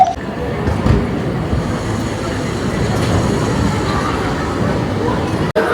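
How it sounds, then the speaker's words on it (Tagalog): A train rumbles past near a hotel in Kamakura, Japan, a steady broad roar that holds loud throughout with faint rail clatter and no clear talk over it. "May dadaan na tren."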